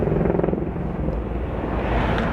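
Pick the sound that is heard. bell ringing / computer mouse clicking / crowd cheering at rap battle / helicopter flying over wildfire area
helicopter flying over wildfire area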